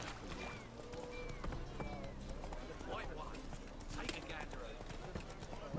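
Horse hooves clip-clop in The Witcher III as a mount plods along, with a voice talking over the steady hoofbeats.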